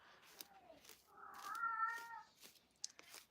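A cat in heat cries with a drawn-out, wavering yowl in the middle, framed by fainter shorter calls and small clicks, all fairly quiet and distant in the background.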